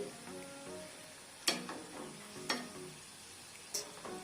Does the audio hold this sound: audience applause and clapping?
no